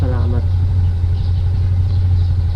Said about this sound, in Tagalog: Painit lang makina.